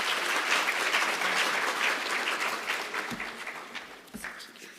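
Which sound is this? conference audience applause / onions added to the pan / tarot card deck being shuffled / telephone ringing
conference audience applause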